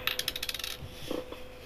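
A quarter coin tossed onto a hard surface, a rapid series of bright metallic clinks and rattles that slow and settle, followed by a few soft thuds.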